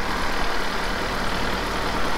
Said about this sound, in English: He's on the tractor.